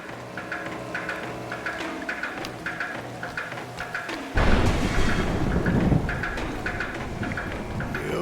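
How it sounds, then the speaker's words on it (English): Thunder rumbles through the woods in the video game A Juggler's Tale, low rolling growls under pattering rain, then a sudden loud crash that stays heavy and sustained before easing slightly. "Thunder calls through the woods."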